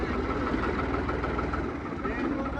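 A New Holland 3630 tractor diesel engine idling with a steady low rumble, close and continuous, with people talking over it.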